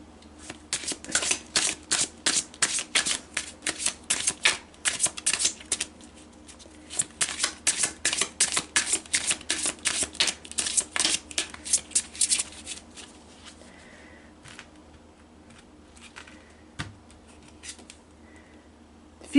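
Tarot cards riffle-shuffled in rapid bursts of dense papery flutters, two long runs separated by a short pause, then quieter scattered card taps and slides near the end, close and alone without speech.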